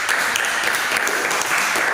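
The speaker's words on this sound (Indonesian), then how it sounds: "Oke, tepuk tangan untuk kelompok 2." A classroom group breaks into steady applause for the second group of students, a dense, even wash of many hands clapping up close with no voices over it.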